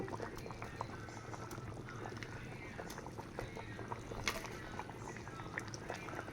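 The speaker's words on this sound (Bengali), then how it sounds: "ঝোলটা ফুটতে শুরু করেছে" Rohu fish curry gravy with elephant foot yam bubbles in a pan, a dense steady crackle of small pops and simmering, fairly close and continuous.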